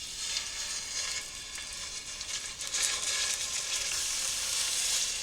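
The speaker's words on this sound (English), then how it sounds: "you hear that sizzle?" Pork chops searing in hot oil in a pan, giving a loud, steady, crackling sizzle with no talk.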